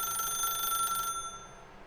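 A telephone rings in The Stanley Parable video game, a bright, even electronic trill that sounds steadily for about a second, then cuts off and leaves only a faint tone.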